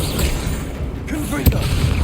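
A fiery spell blast in Hogwarts Legacy: one sharp burst lands midway through, over a dense bed of game music and ambience.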